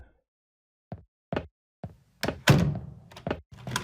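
In a horror video game, a door sequence plays as a series of separate hollow thunks and knocks that build to a louder clatter, heard alone and close without talking.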